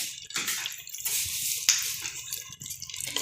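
Water poured and splashing for a Marrakech-style meat tangia cooked in a pressure cooker, a steady running stream with sloshing and a sharp clink midway, heard close without talk.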